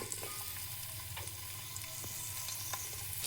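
Onions frying in oil in a pan for egg fried rice, a soft even sizzle with occasional light stirring taps, fairly quiet and alone without voices.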